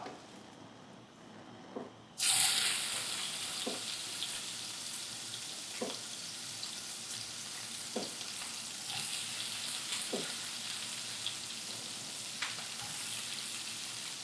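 Pasta ingredients dropped into hot olive oil, setting off a steady loud sizzle that runs on evenly, broken by occasional soft taps and stirring clinks, with no one speaking.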